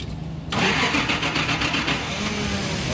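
A Nissan TB45 engine with severe low power cranks briefly and fires into life, settling into a rough, loud mid-pitched run close by.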